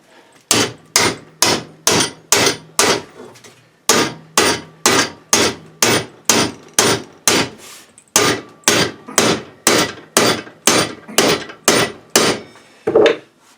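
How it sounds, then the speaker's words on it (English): Heavy hammer blows on a 1/8 by 3 inch steel bar being bent, struck in sharp, loud, evenly spaced bursts of five to seven hits separated by short pauses, with no talking. "Usually all you need is like a good hammer."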